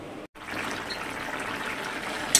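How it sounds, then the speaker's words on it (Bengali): Thin fish curry with potatoes boiling in a pot, giving a steady soft bubbling and watery simmer close by, with one brief gap near the start. "কিভাবে ফুটছে দেখেছো?"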